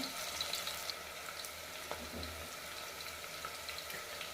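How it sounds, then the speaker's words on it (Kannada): Mixed vegetables for sambar fry in oil, a faint, steady sizzle with a few soft clinks from stirring, heard quietly and at a slight distance. "ಎಣ್ಣೆಲಿ ತರಕಾರಿ ಫ್ರೈ ಆದರೆ ಸಾಂಬಾರು ಟೇಸ್ಟ್ ಚೆನ್ನಾಗಿರುತ್ತೆ"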